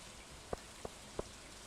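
Rain in the video game Stardew Valley, a soft steady hiss of falling rain at low volume, broken by three quiet, evenly spaced taps.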